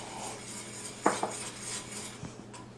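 Spoon stirring vinegar into a homemade keto tomato ketchup mixture, a few quick clinks against the bowl over a quiet kitchen background.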